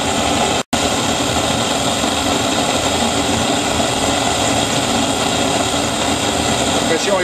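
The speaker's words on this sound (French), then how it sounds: "la flamme est bien assez importante et même trop forte pour la chaudière" Gas burner flame roaring steadily during a boiler test, a loud continuous broadband rush that holds for several seconds with one brief dropout near the start.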